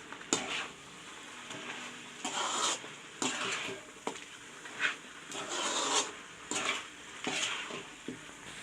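Spoon stirring chicken kulambu in a pot with chilli powder and salt gives soft repeated scraping and clinking strokes, fairly faint and close, in an uneven rhythm over a light sizzle.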